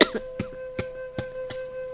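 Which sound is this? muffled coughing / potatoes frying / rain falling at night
muffled coughing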